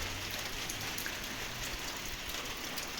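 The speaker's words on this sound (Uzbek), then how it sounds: "Yomg'irni qaranglar do'stlar, qanday maza yog'ishini." Soft, steady rain patters continuously at a distance, a quiet even hiss with faint scattered drops.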